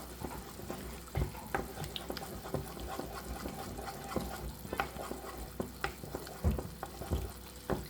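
Scrambled egg frying in a pan while being stirred and chopped, with a steady sizzle under frequent sharp scraping and tapping clicks of a utensil against the pan, close up and with no talking.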